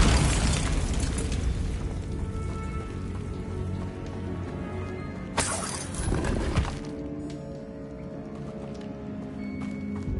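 Bombarda spell explosion in Hogwarts Legacy, a sudden burst that stands out at mid-clip over steady, rain-like game ambience and background music, with no speech.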